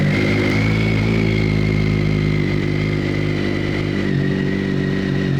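A Triumph Speed Triple 1050 idles steadily with a GRmoto exhaust running with the baffle removed, a loud, close, even rumble with no voices.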